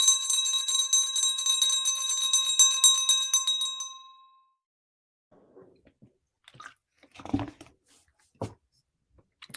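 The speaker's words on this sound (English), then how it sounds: "In a moment, you're going to hear a chime" A bright meditation chime rings with shimmering, sustained tones for about four seconds, then fades into near silence broken by a few soft, scattered rustles.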